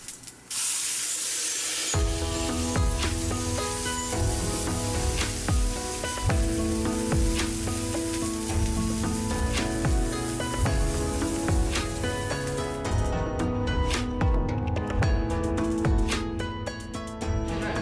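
Mung bean pancakes sizzle in a frying pan with a constant crackling hiss, largely masked by loud background music.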